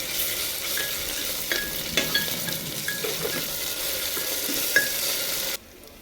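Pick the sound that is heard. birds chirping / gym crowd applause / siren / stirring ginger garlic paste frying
stirring ginger garlic paste frying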